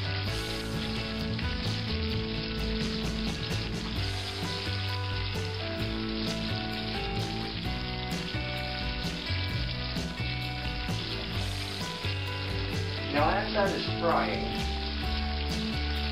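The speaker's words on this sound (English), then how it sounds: "as this is frying" Five chicken drumsticks deep frying for country fried chicken give a constant crackling sizzle beneath background music, with a brief spoken word near the end.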